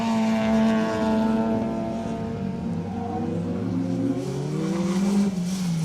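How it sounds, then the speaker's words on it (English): A Honda Civic rally car passes on a forest stage of the 2023 Menai Stages rally, its engine note rising and sweeping through the gears as it approaches and goes by, loud and close, with no voices. "Jeff McQuillan and Catherine Jones in the Honda Civic, just making their way in front of us."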